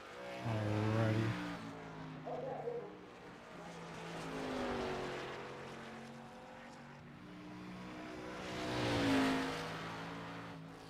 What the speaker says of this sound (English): Got some engine noise back.